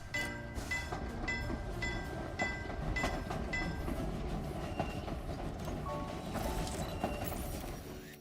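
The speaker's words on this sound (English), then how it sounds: "Drive the train." A train in the Infinity Nikki video game rolls along with steady rumbling wheels and rhythmic clickety-clack, joined by light chimes and faint music, fairly quiet and continuous.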